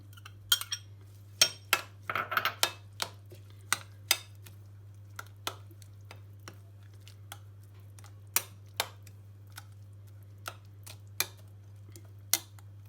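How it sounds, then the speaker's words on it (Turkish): A spoon clinks and scrapes against a bowl while stirring grated tomato and pepper for spicy Turkish ezme, in scattered sharp taps over a steady low hum, no voices. "Rondodan geçirdiğimiz domatesimizi ve biberimizi karıştırıyoruz."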